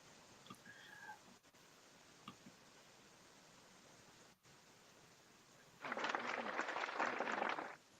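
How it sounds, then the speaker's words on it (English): Audience applause at a Youths Prayer Network graphics design class: after a quiet stretch with a few faint sounds, a burst of clapping lasting about two seconds rises and then stops, soft and somewhat distant overall. "Can we give her a round of applause,"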